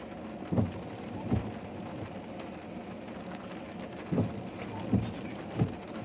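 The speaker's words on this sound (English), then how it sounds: "Hearing a little bit of thunder." Thunder rumbles during a storm in Wisconsin, several low booms rolling in at intervals over a steady hiss of rain, moderately distant and heard without talk.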